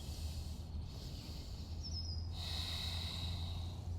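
A deep breath is drawn in during a yoga flow, a soft, close inhale of about two seconds over a low steady background hum.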